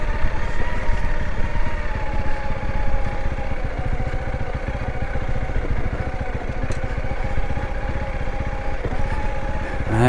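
A Honda CRF300L dirt bike ridden slowly on a backcountry trail in the southwest Utah desert, its engine a steady, close, unbroken drone with a faint rattly clatter and no voices.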